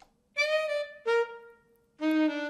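Three short sampled saxophone notes from Sample Modeling, each close and clear with strong dynamics. The middle note briefly bends downward in pitch.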